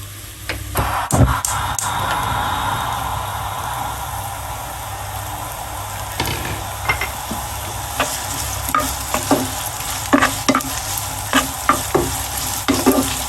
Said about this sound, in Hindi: अब हम इसमें शामिल करेंगे पैन में प्याज। अब इसे हम हल्का सा फ्राई करेंगे।